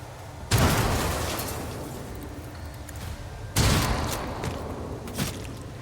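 Gunfire volleys from the video game Warhammer 40,000 Rogue Trader: two heavy, loud bursts a few seconds apart, each a sharp crack trailing into a long rumbling decay, with smaller pops between.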